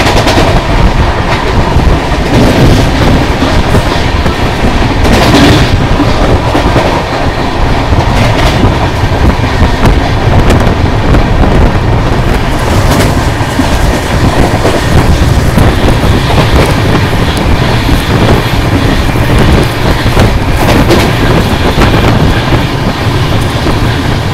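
A double-decker train runs between Chennai and Bangalore, passing a small village station. Wheels rumble and clatter steadily on the rails, loud and continuous, with rhythmic clickety-clack and occasional sharp knocks throughout.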